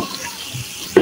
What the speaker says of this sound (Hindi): चिकन यहाँ पे मैंने डाल दिया और मैं हला रही हूँ चमचा